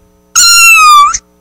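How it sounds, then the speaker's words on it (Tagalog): A kitten on a farm gives a single loud, close meow, drawn out for nearly a second with a slight rise at the end. "Alam mo naman yung kuting eh."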